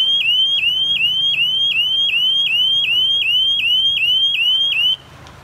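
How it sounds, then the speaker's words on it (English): A Dock Lifeguard electricity detector sounds a loud, repeating electronic alarm of rapid rising chirps on a dock, cycling steadily for about five seconds before cutting off abruptly. "the dock lifeguard is alarming"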